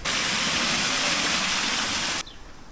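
Waterfalls in Bergen, Norway pour with a loud, dense rushing hiss that holds steady for about two seconds, then cuts abruptly to quieter ambience; no one speaks.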